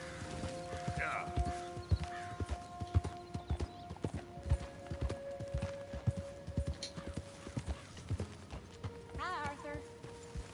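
Horse hooves clip-clop steadily in Red Dead Redemption 2, a moderately paced walking rhythm under game voices talking, with an occasional neigh and ambient background.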